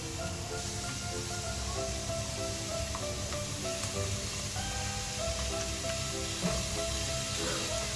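Blue Band margarine melting in a hot sufuria gives a soft, even sizzle and hiss, with some faint tonal background sound in the kitchen and no talking.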